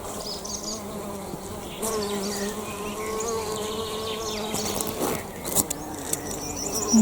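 Bumblebee buzzing steadily outdoors, a close, continuous droning hum that rises and falls in loudness as the insect shifts, with faint background noise and no talking.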